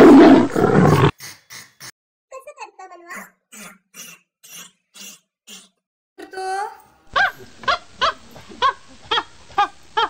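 A small child imitates a tiger with bursts of growly roaring between short voiced sounds, followed by a run of rhythmic panting roars, close and loud, with an adult voice prompting.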